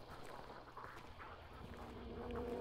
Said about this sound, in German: Nochmal die Enten.